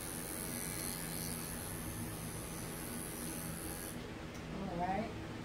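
Steady electric buzz of a cordless dog grooming clipper fitted with a yellow attachment, running close and constant before cutting off near the end, with faint talk underneath.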